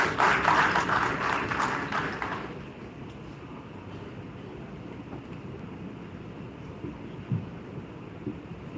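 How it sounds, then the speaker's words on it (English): Conference audience applauds for about two seconds, a dense patter of many hands, then the hall settles into quiet room noise with faint movement. "Please give a huge round of applause for sir."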